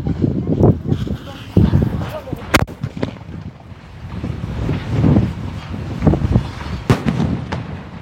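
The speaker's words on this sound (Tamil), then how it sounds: "இப்போ வந்து நம்ம கோல்டன் ஐயை வெடிக்க போகிறோம்." A Golden Eye skyshot firework from Sivakasi bursts outdoors in wind, with sharp cracking pops and booms scattered among gusty rumble while someone talks over it.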